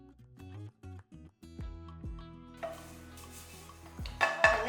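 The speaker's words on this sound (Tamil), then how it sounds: "இந்த கீரை எடுத்து நல்லா வறுத்தரலாம் ட்ரை ரோஸ்ட்டு தான் பண்ணணும்" Thuthuvalai leaves dry roasting in a pan, heard as close clinks and scraping of a utensil stirring against the pan, with some light rustle and faint sizzle building toward the end.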